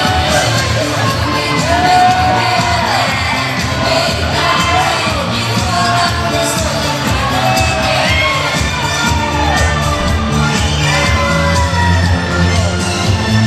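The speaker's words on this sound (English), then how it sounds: "Why are these people booing?" A packed wrestling crowd at a New Era Wrestling event roars continuously and loudly, a dense wall of jeering and yelling voices that holds steady the whole time with no single speaker standing out.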